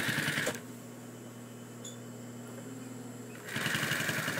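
A sewing machine stitches the welt of a throw pillow in two short bursts of rapid mechanical whirring, separated by a quiet pause of about three seconds, close and clear.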